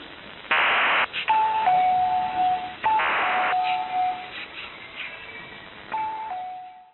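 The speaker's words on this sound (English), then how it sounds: "The doorbell oddity was heard the following day at 1050 UTC." Doorbell oddity signal on shortwave radio: repeated two-tone ding-dong chimes with bursts of noise between them, loud and clear over a band-limited radio hiss, several cycles in a row.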